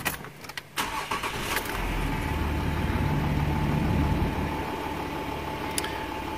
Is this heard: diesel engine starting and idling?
yes